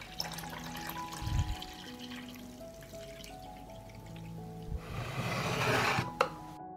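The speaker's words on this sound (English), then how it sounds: "I pour water into the pot up to the height of the lid." Water poured into a deep cooking pot holding glass jars, a soft rushing stream that swells toward the end before a final knock, heard close with faint ringing tones in the background.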